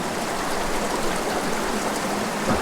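Creek water flows in a steady, unbroken rush, close and fairly loud, with no voices over it.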